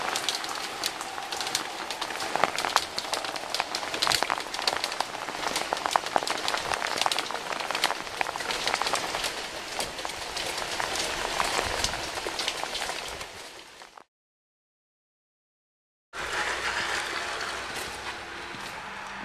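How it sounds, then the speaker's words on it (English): Heavy rain pours steadily and loudly at an outdoor trench site during a water infiltration project in Mosman, a dense continuous hiss that cuts out briefly before resuming. "Day seven, we're rained out. The rain has just not stopped."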